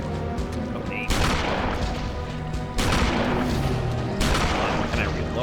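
Bursts of gunfire ring out in the horror game Eternal Darkness: Sanity's Requiem, with three loud volleys of shots, each cracking sharply and then tailing off into a dense, echoing rumble.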